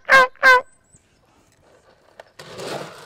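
A wild turkey gobbles twice in quick succession, two loud rattling bursts up close, then near silence before a soft rustling wash of background noise.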